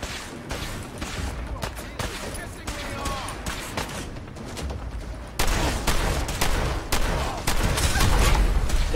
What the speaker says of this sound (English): Pull the shotgun out.